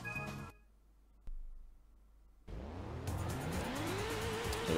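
Race cars launching off the grid at the start of a race on Special Stage Route 5 in Gran Turismo: a sharp burst of engine noise after a near-silent pause, then several engines revving and climbing in pitch together, loud and continuous.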